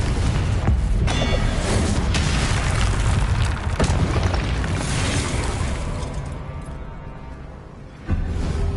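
Confringo explosion spells in Hogwarts Legacy, a dense continuous roar of booming blasts and bursts layered over one another, loud throughout, easing slightly before a final sudden burst.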